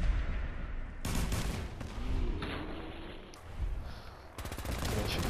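Repeated bursts of weapon fire from a modded cryo minigun in Fallout 4, loud and close with short gaps between volleys, with game effects in the background.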